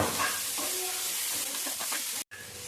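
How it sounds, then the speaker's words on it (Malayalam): Onions sautéing in a pan with crushed ginger-garlic paste, a loud continuous sizzle with scraping stirs of a spoon throughout, close up, with a brief cut near the end and no talk. "നമ്മൾ ഉള്ളി നന്നായിട്ട് വഴന്ന് കിട്ടിയിട്ടുണ്ടെങ്കിൽ നമുക്കതിലേക്ക് ഇഞ്ചി വെളുത്തുള്ളി പേസ്റ്റ് ചതച്ചത് ഇട്ട് കൊടുക്കാം കേട്ടോ നന്നായിട്ട് ഇളക്കി കൊടുക്കാം"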